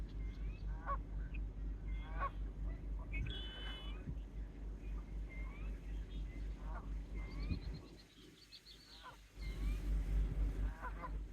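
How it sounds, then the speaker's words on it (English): Canada geese honking repeatedly in an outdoor wildlife refuge, a flock giving scattered mid-distance calls over steady low background rumble, with a brief quieter gap before the noise returns. "That's your goose action right there."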